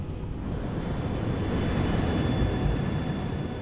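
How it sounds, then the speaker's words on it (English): A Boeing 737 airliner climbing away after takeoff, heard as a steady broadband engine roar with a faint high whine, unchanging and alone for several seconds. "At 5:35 p.m., the Boeing 737 gets airborne."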